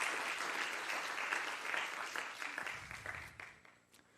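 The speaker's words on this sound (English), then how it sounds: "So I think that's worth an applause" Audience applause at a master's graduation ceremony, dense steady clapping from the crowd that gradually thins and fades toward the end.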